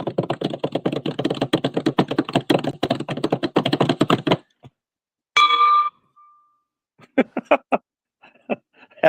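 A Stanley stainless steel coffee cup gives a short bright metallic ping around the middle, following a long stretch of rapid tapping; a faint lingering tone and a few scattered clicks come after it.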